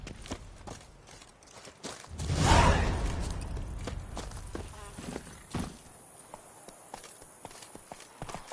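Roach the horse in The Witcher 3 video game, with hoofbeats clopping in an uneven rhythm, a louder whooshing surge midway, then steady footfalls continuing at moderate volume.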